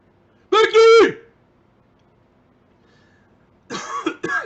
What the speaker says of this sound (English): I said that so loud it made me cough.